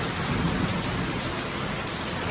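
Heavy rain pours steadily on surfaces outdoors during a thunderstorm, a dense continuous hiss with low rumbling thunder underneath, loud and close throughout.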